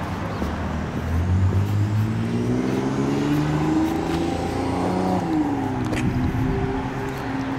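A car engine drones close by, revving and shifting pitch while driving past at moderate speed, with a steady mechanical whir beneath.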